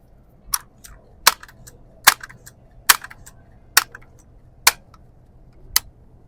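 A Umarex NXG APX multishot air gun fires JTS rounds in seven sharp, evenly spaced cracks at a range, each report clear and distinct against quiet surroundings.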